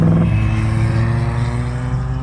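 Shelby Cobra muscle car idling and burbling steadily at a race track, a deep, close, continuous engine rumble that stays fairly even, not being pushed hard, with no talking.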